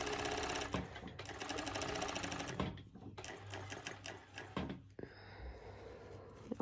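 An industrial sewing machine runs a cover stitch on a twisted-knot top, giving a loud, steady mechanical chatter in several continuous bursts with brief pauses between runs.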